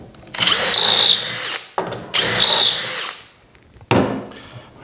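Two long, loud bursts of a power drill boring dowel holes into dresser panel wood, each winding down, then a shorter third burst starts, close up and with no talking.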